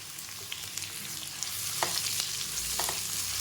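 Finely chopped onions and green chillies fry steadily in a pan for paneer butter masala, a continuous close crackling sizzle with a few sharper spits and stirring scrapes, and no talk.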